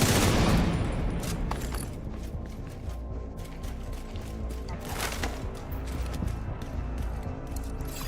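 Bursts of gunfire from the video game The Division in a Brooklyn battle, dense and continuous over a busy mechanical, clattering game soundscape, loudest at the start.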